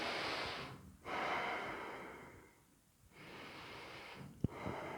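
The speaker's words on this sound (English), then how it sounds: "We're going to take a couple breaths here." Slow, deep breaths taken while holding a yoga pose, audible as long airy inhales and exhales with short pauses between them and a brief sharp snort near the end, quiet and close.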